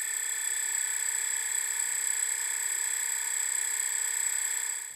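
A brushless motor with a sinusoidally pulsed throttle spins with a steady high-pitched electric whine and faint rhythmic wavering, heard close and alone, then cutting off at the end.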